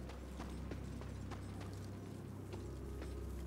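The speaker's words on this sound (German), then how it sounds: "Ah, mein Pferdchen." Horse hooves clip-clop at a steady, rhythmic trot in the video game Darksiders, fairly close and continuous over a dense, rumbling game soundscape with no speech.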